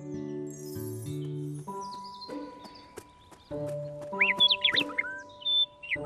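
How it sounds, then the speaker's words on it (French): Cartoon birdsong from a bird perched in a tree: bright, warbling chirps rise over a sustained musical backing in the second half, fairly close and clear. "Un oiseau chante gaiement dans un arbre."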